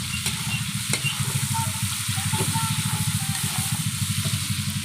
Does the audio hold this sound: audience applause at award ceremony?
no